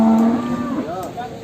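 Limousin cattle at a livestock market give a loud, close moo right at the start that trails off, followed by a couple of shorter, softer lowing calls.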